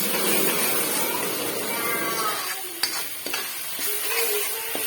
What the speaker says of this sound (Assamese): এইটো মই অকণমান ভালকৈ ভাজিছোঁ, নহ'লে পিঁয়াজৰ আৰু বিলাহীৰ কেঁচা গোন্ধটো আহি যায়